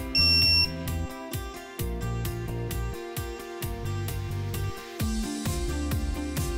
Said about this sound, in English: the handle will vibrate, the LEDs will light, and the buzzer will sound